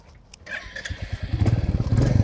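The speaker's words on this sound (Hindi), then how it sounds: "अभी मैंने बाइक अगर स्टार्ट करी ना" Royal Enfield Classic 350 motorcycle engine starting: faint clicks, a brief crank, then the single-cylinder engine catches and settles into a close, loud, rhythmic thumping idle.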